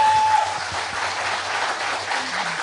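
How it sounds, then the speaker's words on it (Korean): Audience applause at a public broadcast recording, a short steady round of clapping from a small crowd, moderately loud and without talk over it. "저는 예, 박수 좋습니다."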